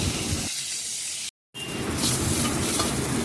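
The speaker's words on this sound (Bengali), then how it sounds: "এবার পটলগুলো কড়াইতে দিয়ে দেওয়া হয়েছে ভাজার জন্য উল্টে পাল্টে তাকে একটু লাল লাল করে ভেজে নিতে হবে" Pointed gourd (potol) pieces frying in oil in a wok while being stirred, a steady loud sizzle with scraping stirs, broken by a brief gap of silence.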